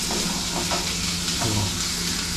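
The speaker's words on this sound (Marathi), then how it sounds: "मिलते हैं कांदा फ्राय होने के बाद." Sliced onions fry steadily in a pan with a dense, continuous sizzle and hiss throughout, close and fairly loud, with no voices.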